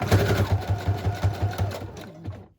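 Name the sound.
sewing machine stitching lace and ribbon closure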